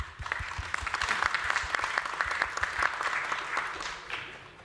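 Audience applause at the close of a conference panel, sustained clapping from a crowd with many distinct claps, building and holding for several seconds before tapering off.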